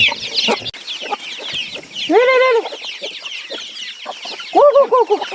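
Several chickens cluck around a Vietnamese farmyard with a pigsty, short clucks and calls scattered throughout, with two louder drawn-out squawking calls close by, no one talking.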